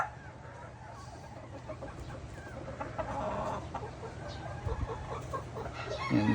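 A hen clucks and murmurs softly while laying an egg on a game farm, repeated low clucks over a steady background hum, moderately close, with no talking.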